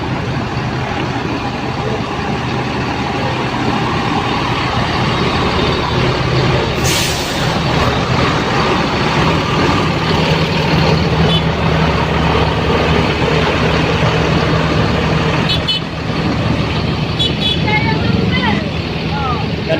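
A loud, steady low drone of an ANS bus engine idling at a bus terminal in the afternoon, running continuously under busy ambient noise with voices in the background.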